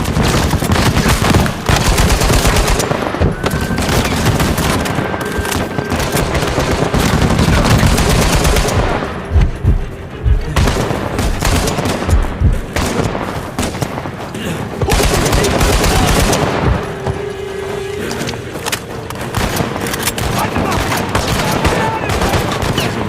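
Sustained turret and automatic gunfire in the Uncharted 4: A Thief's End video game, loud rapid bursts with brief pauses and heavy impacts, with occasional voices shouting in the middle of the firing.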